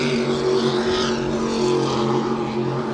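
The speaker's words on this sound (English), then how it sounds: "Speaking of unique hulls, 40-foot Skater V-bottom." A 40-foot red and black Skater V-bottom racing powerboat with a multi-stepped hull roars past at a super boat grand prix in New York, its engine a loud, steady droning whine throughout.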